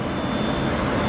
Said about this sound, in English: I don't know what planes these are.